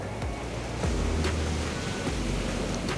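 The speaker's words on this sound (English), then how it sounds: "here comes a big wave" Large ocean waves break on a beach at sunrise, a continuous broad roar of surf with swelling crashes, loud and near, without talk.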